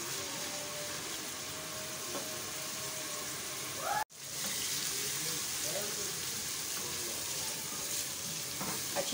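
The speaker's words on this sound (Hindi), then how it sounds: "लहसुन अदरक को अच्छी तरह से भूनें, बिल्कुल गोल्डन ब्राउन कर लें भून कर" Ginger and garlic frying in oil for beef nihari: a steady, close sizzle with stirring scrapes, briefly cut off partway through and then resuming.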